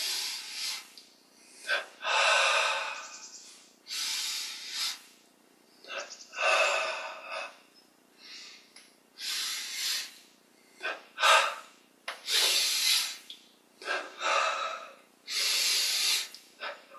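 Deep breathing during a yoga breathing exercise: a series of loud, airy inhales and exhales close to the microphone, each lasting about a second, repeated in an uneven rhythm with short pauses between.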